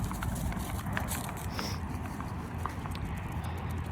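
A horse's hooves clip-clop outdoors near horses in a field during a dog walk, with a steady stride at moderate distance under constant broadband background noise.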